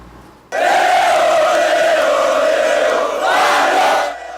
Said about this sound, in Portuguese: A torcida do Sampaio Corrêa não se importou com o horário e fez questão de acompanhar a chegada dos campeões do Nordeste